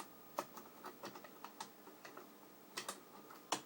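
Scissors used as a screwdriver on the hand grip screw of a CYMA Thompson replica, giving a series of small close clicks and ticks at an uneven rhythm.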